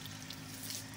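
Cold water runs from an old village well at Nizampura, Pattoki, a steady rushing flow heard up close with no voices.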